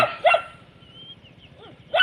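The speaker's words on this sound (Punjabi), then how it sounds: "ਬਾਈ ਨੇ ਵੀ ਕੁੱਤਾ ਰੱਖਿਆ ਗੋਰੇ ਨੇ ਇੱਕ ਜਰਮਨ ਸ਼ੈਫਰਡ ਤੇ ਇੱਕ ਡੈਸ਼ ਹੈ" A German Shepherd and a dachshund bark nearby. Two short, sharp barks are heard, one near the start and one at the end, with a quiet gap between them.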